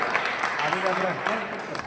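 Audience applause at a Republic Day event for people with disabilities in Sambhajinagar, a steady wash of clapping that runs through the whole moment with voices talking over it.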